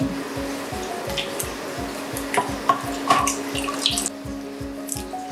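Water splashes steadily into a mixer jar of ground batter for uthappam and set dosa in a Kerala kitchen, a continuous close pour with a low rhythmic hum running under it.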